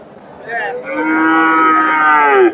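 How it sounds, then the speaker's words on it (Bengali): A Friesian bull at a cattle market in Bogura mooing once, a loud, close, drawn-out bellow that swells and holds for about two seconds before breaking off, heard alone without talk. "ফ্রিজিয়ান জাতের ষাঁড় গরু"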